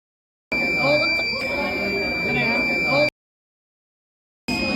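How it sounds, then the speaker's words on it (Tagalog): An Arduino Uno buzzer wired on a breadboard emits a steady electronic tone for about two and a half seconds, cuts to silence, then starts again near the end, loud and close with no one talking. "a loop keeps the buzzer activate as long as the circuit is running or the Arduino remain powered"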